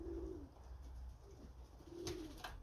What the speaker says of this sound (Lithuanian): ten burkuoja, ten dodasi, ten porinasi paukščiai